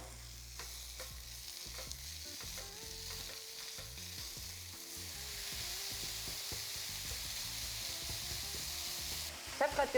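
Minced meat and garlic sizzle steadily in a pan, with a spoon stirring and scraping now and then, close and continuous.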